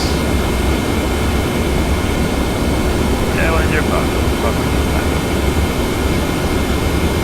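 A Qantas Boeing 717-200 jet descends toward Melbourne in the Prepar3D flight simulator, a dense, steady engine roar and rushing air noise filling the whole stretch without break, with a faint chirp partway through.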